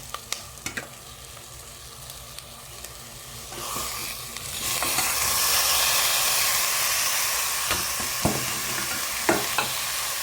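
Cauliflower sautéing in ghee, scattered stirring knocks at first, then a loud, steady hissing sizzle that swells about halfway through and holds, with occasional spoon taps against the pan.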